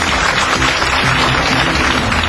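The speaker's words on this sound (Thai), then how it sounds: "ขอเสียงปรบมือด้วยครับ" An audience at a children's event gives a dense burst of continuous applause for a group of kids from a Rubik's cube academy, loud and unbroken.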